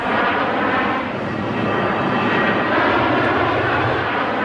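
An airplane passes overhead above the Slovak capital, a loud, steady broadband engine roar that swells slightly and holds for several seconds with no speech.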